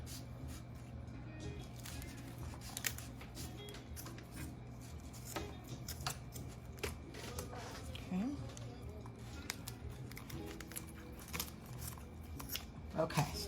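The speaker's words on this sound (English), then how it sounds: "I wanna just first take off the wing tips because they just burn, okay? So we're just gonna cut these babies off." Scissors or shears snipping the wing tips off a whole raw duck in a home kitchen, a series of soft close cuts and handling noises under a low background hum, with a person talking.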